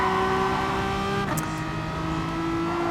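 A race car engine in the video game Gran Turismo Sport drones with steady tonal harmonics, drops briefly as if on a gear change, then keeps pulling at a sustained level.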